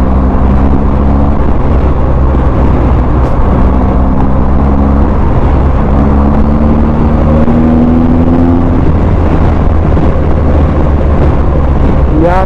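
A 2023 BMW R 1250 GS Trophy adventure motorcycle running, a loud, steady engine drone with rising and falling revs, close and continuous without talk.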